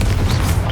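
A heavy, booming fire-spell blast from Hogwarts Legacy erupts as one loud, dense rumble with a crackling wash filling the whole short moment.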